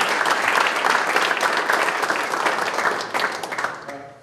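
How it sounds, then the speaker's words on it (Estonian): Loud, dense applause from a gathered audience, many hands clapping steadily close by and tapering slightly toward the end. "siis teeme aplausi ja eks ta saadame tänu juurde"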